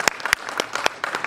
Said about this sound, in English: the applause comes from only geeks